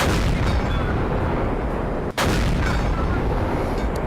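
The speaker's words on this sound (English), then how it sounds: "Full drum, all 4 shells AP into that leopard PTA." Tank cannon in World of Tanks fires AP shells from a T57 Heavy's drum autoloader, a loud gunshot-like boom over dense continuous game noise.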